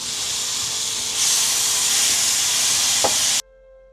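Soya sauce hits a hot pan of stir-fried Hakka noodles, setting off a loud steady sizzle and hiss that swells partway through, with a brief clink before it cuts off abruptly.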